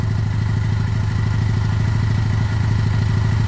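A Lexmoto Michigan 125cc motorcycle engine runs close by at a steady idle, with an even, rapid low thumping and light mechanical clatter throughout.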